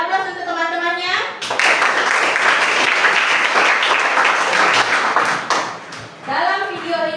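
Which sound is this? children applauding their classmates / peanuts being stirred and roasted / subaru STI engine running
children applauding their classmates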